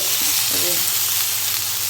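Chicken fries in its own released oil in a pan, a loud steady close sizzle with faint stirring scrapes and no talk.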